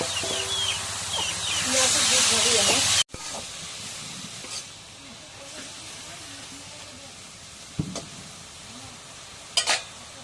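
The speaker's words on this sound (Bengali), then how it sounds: "শাকটা ভাজা হয়ে গেছে এখন নামাই" Leafy greens frying in oil with chilli in a pan give a loud sizzling hiss for about three seconds, then a cut to a quieter, softer crackle with a few clinks of stirring and faint voices in the background.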